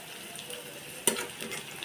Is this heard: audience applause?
no